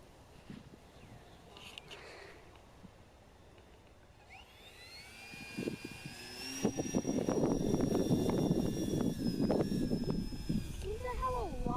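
An Eclipson APEX 3D-printed 2.3 m RC glider's electric motor whines overhead, rising from about four seconds into a steady high tone, mixed with wind noise and people talking nearby.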